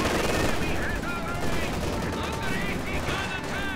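Gunfire and explosions from a Company of Heroes 2 3v3 battle between German and Allied forces, including anti-tank guns and Panther tanks, sounding as dense continuous shooting and bursts throughout, with faint in-game chatter in the background.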